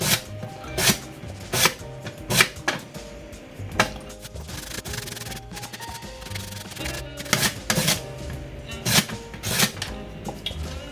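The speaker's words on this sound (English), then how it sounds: "I'm just gonna julienne the carrots." Carrots being julienned into thin straws on a mandolin slicer, a steady run of sharp, rhythmic scraping strokes repeating every second or so, close and fairly loud with no talking.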